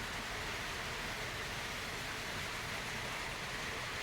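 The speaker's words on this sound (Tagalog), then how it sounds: "Bubuhos ang malakas sa ulan." Heavy rain pouring down outdoors, a dense, even roar of falling water that stays loud and steady throughout with no voices.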